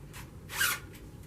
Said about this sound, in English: Zipper was stuck.